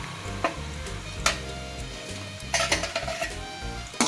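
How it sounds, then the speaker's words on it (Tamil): Onions sautéing in a pan for a broad bean stir-fry, a soft low sizzle under several sharp metallic clanks and scrapes of a spoon against the pan, close and moderately quiet, no voices. "இதையும் நல்லா வதக்கிக்கோங்க"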